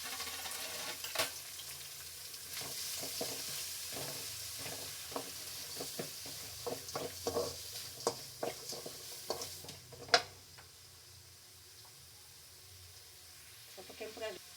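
Onions, green chilies and curry leaves sizzle steadily in a pan while shavige upma is being made, with frequent stirring scrapes and clatters and one sharp clank near the end; no voice is heard.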